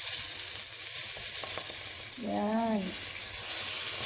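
Butter sizzling in a hot frying pan with ginger, onion and garlic, a steady crackling hiss throughout, with a short sung or spoken voice rising briefly over it.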